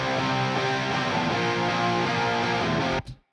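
Dense, distorted rock guitars for a cover song play raw without any plugins, a loud, continuous wall of chords that stops abruptly near the end.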